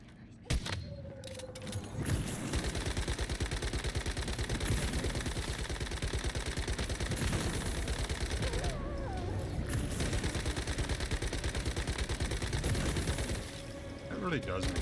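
Sustained rapid gunfire in the video game Once Human as enemies are shot, a dense continuous volley running for most of the clip with a short break, loud and close, with a voice talking over it.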